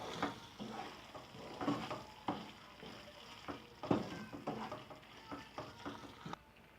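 Mushroom curry with kasuri methi leaves is stirred in a pan, giving soft sizzling under repeated scraping and stirring strokes at an irregular rhythm. The sound is close but fairly quiet, and no one speaks.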